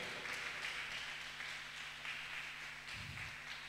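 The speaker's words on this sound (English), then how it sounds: "Appreciate our God with a clap offering." A church congregation gives a clap offering during a Wednesday service, rapid dense applause heard at a distance, fairly faint and continuous throughout.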